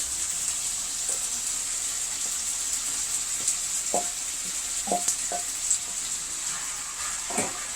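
Haitian légumes with meat, crab and shrimp simmer in a pot, giving a steady close sizzle and bubbling hiss throughout, broken by a few soft clinks and stirring knocks, with no talking.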